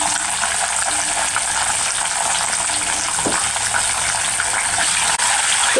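Green and dried red chillies with cumin fry in hot oil for temple-style pulihora, giving a loud, steady, continuous sizzle close up that never lets up, with no talking.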